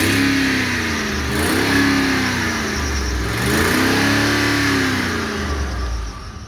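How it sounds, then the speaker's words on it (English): A 2010 Ford F-150 pickup with 123k miles revs its engine twice, each loud rise in pitch easing back to a steady idle, close by with no talk. "We'll give it a rev."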